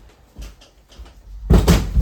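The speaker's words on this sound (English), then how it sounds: "Be a lad and go get the door, Watson." A door opens with a few soft clicks and handle rattles followed by a louder wooden knock and creak near the end, close by with no talking.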